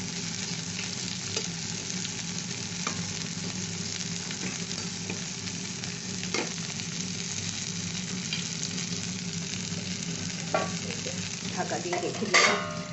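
Bitter gourd and prawns fry in a little oil with turmeric, a steady close sizzle broken by occasional scrapes and clinks of a stirring spoon against the pan, ending in a louder clatter, with no talking.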